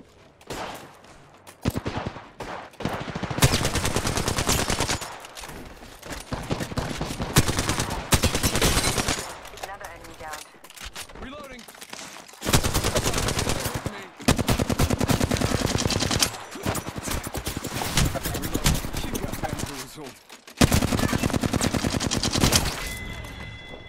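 Automatic gunfire rips through an Apex Legends battle royale match. Long, loud bursts of rapid shots repeat, separated by brief quieter pauses, and continue across the whole stretch.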